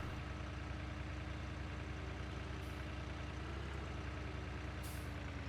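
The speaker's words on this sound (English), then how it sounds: "It's just a beefy little tractor." The Massey Ferguson 5610 tractor in Farming Simulator 19 runs with a steady low engine drone, a constant close rumble with no variation and no talk over it.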